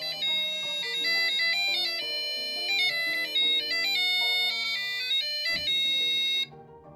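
A Square Clock 512 musical clock plays an electronic chime melody of bright, bell-like notes in a steady tune, clear and alone, stopping abruptly near the end.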